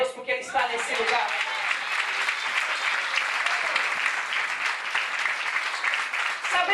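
A church congregation claps during a service, a full, sustained round of applause with dense overlapping hand claps that holds steady throughout the clip.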